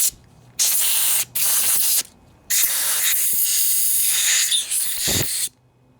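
Loud, close blasts of compressed air from an air compressor nozzle blowing out the carburetor of a Generac Centurion 3250 generator, several bursts of hissing spray separated by short gaps.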